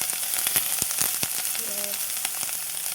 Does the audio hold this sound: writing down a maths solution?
no